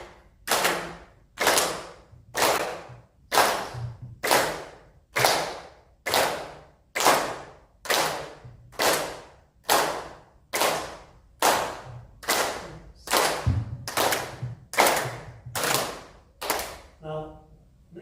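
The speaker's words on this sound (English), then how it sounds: "First we will do slow clapping, and then we will increase the speed" A workshop group clapping hands together in unison, with about twenty sharp, evenly spaced claps ringing out loudly and steadily in a room, and a faint voice under them near the end.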